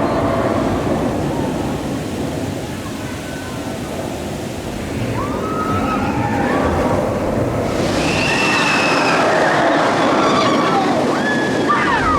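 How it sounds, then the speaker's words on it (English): A loud, continuous rumbling roar of the OzIris roller coaster train at Parc Asterix running along its track, with high metallic squeals creeping in during the second half. "Noisy train here on OzIris."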